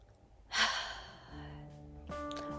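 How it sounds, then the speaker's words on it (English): One deep breath, a sharp audible inhale followed by a slower, softer exhale, close and quiet with no words spoken. "Now breathe."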